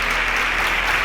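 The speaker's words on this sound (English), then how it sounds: "A round of applause." Audience applause on the Nigerian quiz show InterswitchSPAK, a dense, even roar of many hands clapping at once, loud and steady throughout the short burst.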